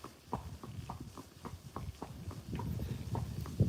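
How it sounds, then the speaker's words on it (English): Friesian horse hooves walking at a steady pace, a regular clip-clop of footfalls close by and fairly clear over a low outdoor rumble, with no talking. "I think Anya is loving her walk today."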